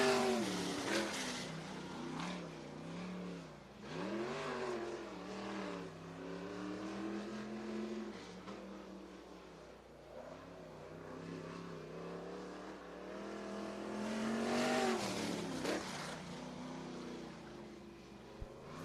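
A sprint car in the 78 runs a qualifying lap at Sunset Speedway Park during a Western Sprint Tour event, its engine rising and falling in pitch as it passes through the corners, swelling loudest near the end.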